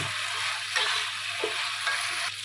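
Chicken wings with tomato, soy sauce and garlic sizzle in a pan as they are stirred, a steady close frying hiss broken by a few soft scraping strokes.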